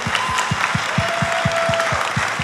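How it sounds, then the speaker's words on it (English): Steady crowd applause with a regular low thumping beat underneath, continuous and fairly loud throughout. "can we give a round of applause to Nick Apostolides, Samantha Béart, and Col"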